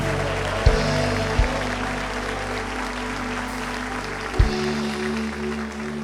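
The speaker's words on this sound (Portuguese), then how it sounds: "Quem pode aplaudir dando glória?" Congregational applause during a church service, a continuous, moderately loud wash of clapping over a steady low hum, with a few soft thumps in the room.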